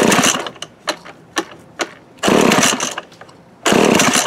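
A 1979 McCulloch Mac 110 chainsaw is pulled several times with sharp rasping recoil tugs, then roars loudly into life twice in sustained bursts, heard up close with no voices.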